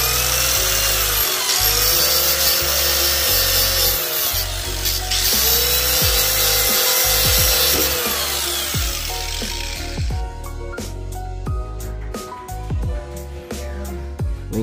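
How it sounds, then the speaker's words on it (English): A power tool shaves material off a coilover suspension mount during an aftermarket coilover install, giving a loud, steady grinding for about ten seconds before stopping, followed by scattered clicks and handling noise. "you guys kind of shave this thing off a little bit because it's stopping the suspension or the mount to get in"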